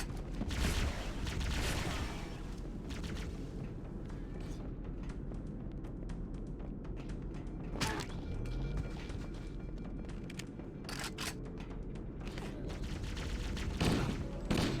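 Heavy sustained gunfire in Halo: Combat Evolved, dense bursts and booming impacts filling the whole stretch at loud, close range, with shouted voices breaking through the battle din.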